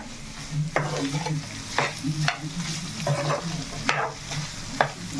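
Chicken fry being stirred in a hot pan, spoon scraping in regular strokes about once a second over a steady background sizzle of frying, close and clear with no talk.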